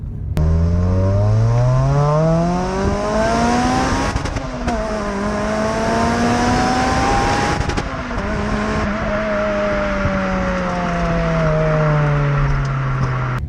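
A Toyota Corolla T Sport engine revs hard and loud, its pitch climbing steadily and changing around 6,200 rpm, dropping with each gear shift, then climbing again; no voices.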